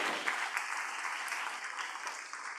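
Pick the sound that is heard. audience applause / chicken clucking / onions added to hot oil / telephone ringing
audience applause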